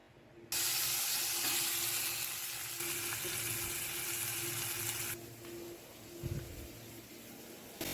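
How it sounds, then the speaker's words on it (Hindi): Loud hot-oil sizzle for tempering dal starts abruptly and hisses steadily for several seconds, then drops to a quieter crackle, close up with a faint hum beneath. "इससे अब मैं दाल में लगाऊंगी तड़का"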